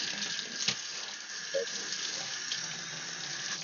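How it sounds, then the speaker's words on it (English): Water runs from a tap in a steady, hissing stream, fairly close, with a couple of small splashes and knocks along the way. "Running water, people."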